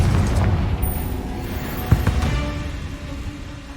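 A Confringo spell explodes in the video game Hogwarts Legacy with a fiery burst and a sharp pop at its peak, amid a continuous rumbling battle din that gradually fades.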